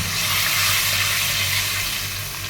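Water poured onto fried onions in a hot pan sets off a loud, steady hiss and sizzle close by, with no voices.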